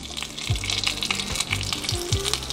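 Homemade dumplings pan-frying, a steady close sizzle with a few dull clunks and scrapes of the pan recurring about every second.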